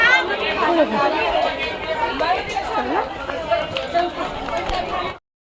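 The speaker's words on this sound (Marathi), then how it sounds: "मंडळी जाम गर्दी आहे." Dense chatter of a crowd of holiday visitors at Ekvira temple, many overlapping voices close by, steady and busy throughout before cutting off abruptly at the end.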